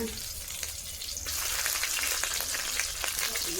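Green chillies, both dried and fresh, sizzle and spit in hot oil in a village kitchen, a steady close crackle that grows louder and denser partway through, with no voices.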